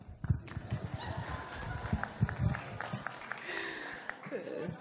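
An audience applauds after a talk on workplace engagement and HR practices, a steady patter of many hands clapping at moderate volume for several seconds with a murmur of voices beneath.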